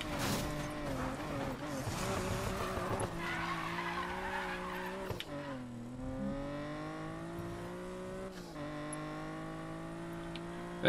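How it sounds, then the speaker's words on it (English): A drift car in the Need for Speed Payback racing game skids with its rear end kicking out, a steady engine drone and rising tire squeal holding loud and close throughout, with pitch dips and swells as the car slides. "the rear end of this car likes to kick out"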